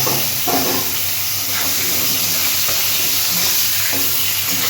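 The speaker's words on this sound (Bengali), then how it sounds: "এবার ওই মাছ ভাজার তেলেতেই আমি বেগুনগুলো একটু ভেজে নেব" Brinjal pieces frying in oil already used for frying fish, a steady loud sizzle and hiss with a few soft clinks and stirring bumps.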